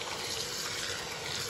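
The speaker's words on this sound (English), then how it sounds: "cover the beans in water" Water is poured over dried black-eyed peas in a crock pot, a steady close rushing splash that lasts the whole moment without pause or talking.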